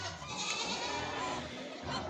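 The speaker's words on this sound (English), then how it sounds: "Oh, there's the pigs and goats." Goats on a farm bleat in a continuous, noisy chorus, fairly close and loud, with general farmyard bustle and no clear talking.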